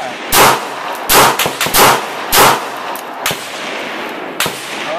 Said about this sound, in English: You just gotta get used to shooting a gun.